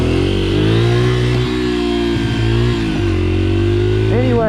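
Dirt bike engine revving on a gravel road for wheelies, a loud close throttle held high with pitch rising and dipping as it is blipped, steady and continuous for a few seconds.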